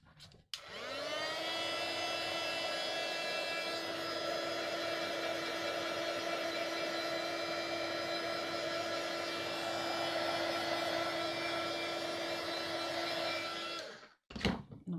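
A hair dryer blowing on paint in an art journal, switched on with a click and running as a steady loud whine and rush for about thirteen seconds before cutting off with a clunk.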